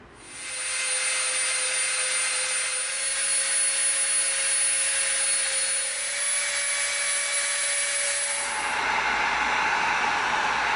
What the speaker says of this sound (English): So now we have to round off the corners here, which we'll do with the Dremel.